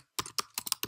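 A quick run of four or five crisp keystrokes taps on a computer keyboard, close and fairly quiet, in an uneven typing rhythm with a short silence before the first press.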